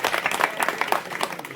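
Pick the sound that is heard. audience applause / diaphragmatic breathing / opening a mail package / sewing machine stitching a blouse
audience applause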